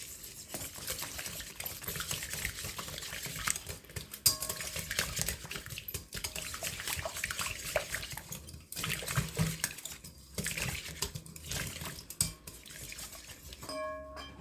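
Powdered sugar mixed in a bowl for sugar-free chocolate chip cookie dough, with a continuous close scraping and clinking of utensil against bowl in an irregular rhythm, fairly quiet and without voices.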